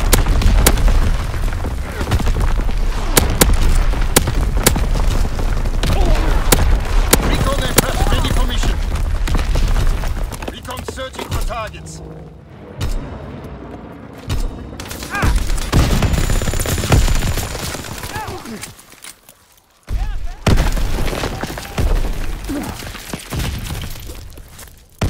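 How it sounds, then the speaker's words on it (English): Mortar rounds and heavy gunfire pound away in Call of Duty: WWII, with dense bursts of booms and rattling shots, loud and close. There are brief quieter gaps, and radio-style voices speak over the barrage. "Sending mortar rounds. Zone and sweep."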